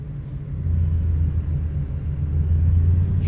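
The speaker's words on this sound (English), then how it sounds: "Truck sounds pretty good though, the International." A steady, low engine rumble from an International truck in American Truck Simulator drones continuously, swelling slightly after the first half second and holding at a constant loud level.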